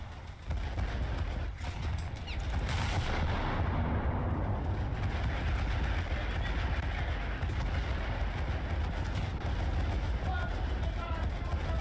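Salvos from 155 naval guns in the War Thunder video game form a dense, continuous roar of heavy booms and rumbling that stays loud for the whole stretch, with no quiet gaps.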